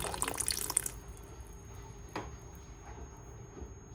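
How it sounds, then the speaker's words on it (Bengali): A little water is poured over sugar in a pan as caramel is started for baked mishti doi, a brief soft splash and trickle lasting about a second, then only faint kitchen hiss. "এই ক্যারামেল করার জন্য এর মধ্যে আমি দেখেছি জল একটু"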